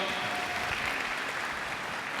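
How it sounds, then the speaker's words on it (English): Steady crowd applause at a live show, a dense wash of clapping from many hands that holds at an even level throughout. "And Kenyon, let's give him a round of applause for that."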